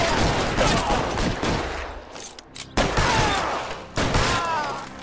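Loud, dense gunfire in L.A. Noire fills the whole stretch in heavy overlapping volleys, with sharp fresh bursts breaking in twice near the end.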